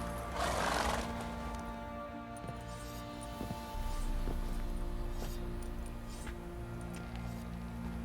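Roach the horse in The Witcher 3 neighing as it comes to a stop, a short whinny at the start followed by a few soft hoof clops and quiet ambient background.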